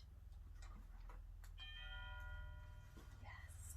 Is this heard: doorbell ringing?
yes